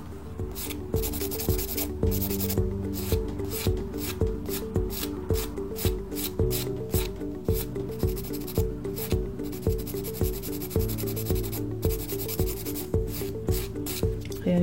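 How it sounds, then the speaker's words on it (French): A hand file rubs back and forth against an artificial nail extension during salon nail shaping, giving quick, regular rasping strokes that repeat steadily and close up, with no voices. "vous plaquez la lime contre l'ongle de votre client et vous continuez le limage."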